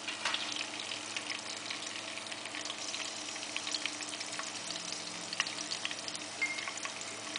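Curry leaves fry in about three tablespoons of oil in a kadhai while roasted thin poha chivada is made, giving a faint, steady sizzle with scattered small crackles and pops and no talking.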